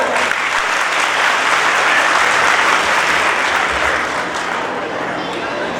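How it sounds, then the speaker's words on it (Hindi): At a Women's Day celebration, an audience claps loudly in a sustained, thick roar of applause, close and even throughout, easing a little toward the end, with voices mixed into the noise. "जोरदार ताली मारो"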